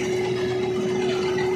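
A New Holland tractor engine runs steadily at close range, a constant droning hum with a strong steady tone and no pauses.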